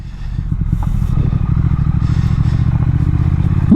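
A Triumph Thruxton motorcycle ridden off-road, its engine giving a loud, steady rumble close by with rattling and clattering from the rough ground over a few seconds.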